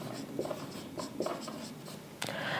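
Chalk or marker scratches across a board during a math lecture on number conversion, in short repeated strokes with a sharper tap near the end, fairly quiet in a room.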